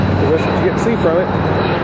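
A fixed-wing airplane coming in to land near an airport, heard as a steady loud engine drone throughout the short moment, with people talking over it.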